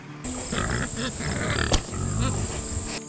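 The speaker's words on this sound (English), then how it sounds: "And then there are the pigs." Pastured heritage breed pigs in a woods paddock on a farm, grunting and snuffling amid steady outdoor background noise, with a single sharp knock partway through.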